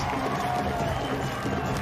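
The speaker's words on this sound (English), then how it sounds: "The crowd is having a moment here." A crowd at a men's kabaddi final cheers and murmurs in a steady, dense roar during a strategic timeout, with scattered clapping mixed in throughout.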